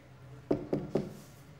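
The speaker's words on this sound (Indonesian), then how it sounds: "Kita ketok ya." Three sharp knocks on a toilet door in quick, even succession, close and fairly loud against a quiet background.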